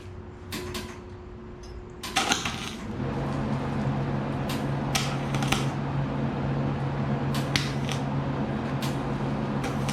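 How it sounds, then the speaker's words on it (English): Welding an exhaust pipe on a Jeep Comanche truck: a steady buzzing arc hum holds alone for most of the stretch after a few sharp clanks, with occasional crackling bursts. "So we're gonna go ahead and try and weld this right here"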